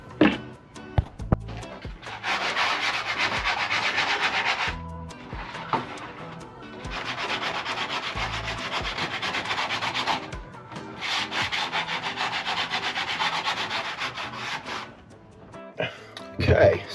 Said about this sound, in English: So just need to sand off the inside of this